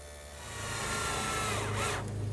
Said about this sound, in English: Now I've set up my stacked dado head cutter with a sacrificial strip to make a rabbet along each edge.